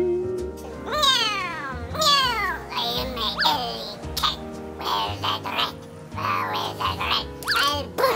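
A voice imitates an angry alley cat, giving a string of loud, drawn-out rising and falling meows and growly yowls in quick succession, close and clear.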